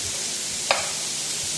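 Andouille sausage and green apple pieces brown in a hot pan, giving a steady soft sizzle throughout, broken once by a single sharp clink of a utensil against the pan.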